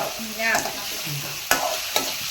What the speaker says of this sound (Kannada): ಚೆನ್ನಾಗಿ ಫ್ರೈ ಮಾಡ್ತೀನಿ. ಇದು ಸ್ವಲ್ಪ ಮೆತ್ತಗಾಗುವ ಗಂಟ ನಾವು ಇದನ್ನ ಫ್ರೈ ಮಾಡಬೇಕು.